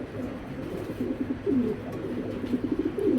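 Racing pigeons coo softly in a loft, a few low throaty calls repeating over a steady background hum, fairly close, with no talking.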